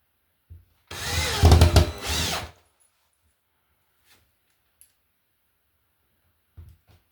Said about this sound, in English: Put a couple more good thick screws in.